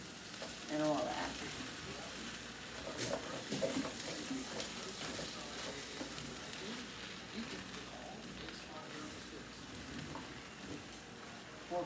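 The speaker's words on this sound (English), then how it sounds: "This time it's just going to be a hibachi rice with the egg and onions" Hibachi-style fried rice with egg and onions sizzles softly in a hot pan, a low steady crackle with occasional scraping stirs, fairly quiet throughout, with faint voice-like sounds mixed in.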